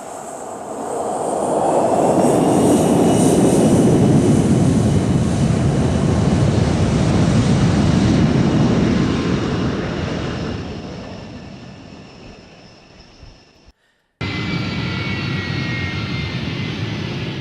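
Aircraft at an air show, a loud roaring jet pass that swells, holds and fades away over several seconds, then a cut to another steady engine roar.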